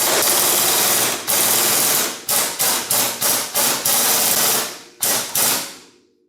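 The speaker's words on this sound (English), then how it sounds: "Remove this 17 millimeter bolt off of the strut." An impact wrench removing a 17 mm strut bolt on a 1994–97 Honda Accord, loud close bursts of rattling hammering, first long runs and then a rapid series of short hits, with no talking.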